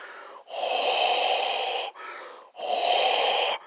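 A person imitates Darth Vader's mechanical respirator breathing, with two long hissing inhale-exhale cycles that are loud, close and airy, each separated by a brief pause.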